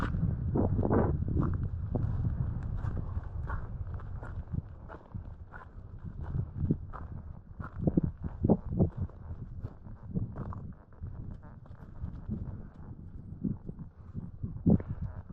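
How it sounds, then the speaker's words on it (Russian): Horses walking across a flat mountain plateau in the Crimean Mountains, their hooves making irregular clip-clop thuds at close range amid gusts of wind noise. "А вот и лошади."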